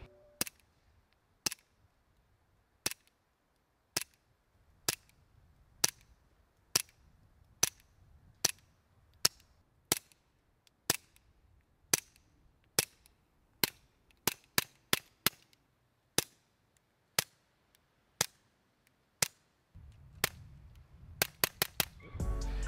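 Suppressed gunshots fired through a Rex Silentium Seg suppressor, about two dozen sharp, dry cracks in a steady sequence, speeding into a quick cluster near the end, with quiet handling noise between shots.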